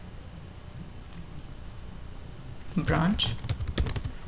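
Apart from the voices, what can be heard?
typing a git command on a computer keyboard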